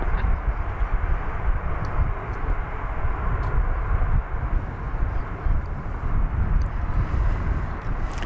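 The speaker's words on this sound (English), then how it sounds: "1961 going to Las Vegas, an Airbus A320" Broad, steady jet rumble from an Airbus A320 at DFW airport, heard from a distance with wind buffeting the microphone, holding a constant low roar for several seconds.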